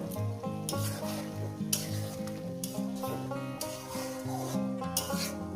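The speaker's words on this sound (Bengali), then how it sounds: "এরপর কি করবো একটু মশলাটা আছে না এটা দিয়ে কষিয়ে নেব" Fried rohu fish cooked down with spices in a pan, giving a soft sizzle and scraping stir strokes that are partly masked by steady music playing over them.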